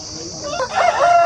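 An Aseel rooster crows at a Saturday poultry market in Mydukuru, a single drawn-out call rising loud and close in the last half of the brief moment, over faint background murmur.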